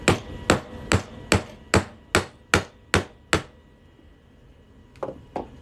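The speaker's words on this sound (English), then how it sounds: "We're going to drive this punch through this silver coin here." A hammer drives a center punch through a 90% silver coin, nine evenly spaced sharp metallic strikes in a quick rhythm, a pause, then two lighter taps; close and loud with no talking.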